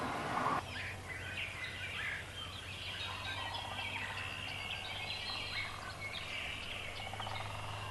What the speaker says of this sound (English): Lots and lots of turkeys.